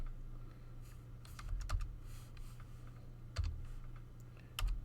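Coordinates being typed on a computer keyboard: a handful of soft, close key clicks in small clusters over a low steady hum.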